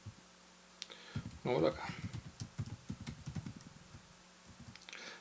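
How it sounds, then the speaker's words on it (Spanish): Clicking keystrokes on a faulty computer keyboard, a quick irregular run of taps close by, with someone speaking briefly over them. "Me está fallando el teclado."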